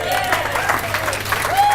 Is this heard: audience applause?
yes